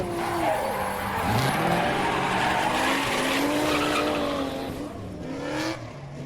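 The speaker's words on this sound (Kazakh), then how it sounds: "Бұл жарыс көлігі." A race car's tires squeal and skid steadily with its engine revving and wavering underneath, loud and close, fading slightly near the end.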